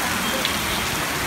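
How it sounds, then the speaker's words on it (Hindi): Very heavy rain pours steadily during an Eid downpour in Kishtwar, a dense, loud, unbroken hiss of drops hitting surfaces close by, with no gaps or other sounds standing out. "पर बहुत ही ज्यादा बारिश पड़ रही है।"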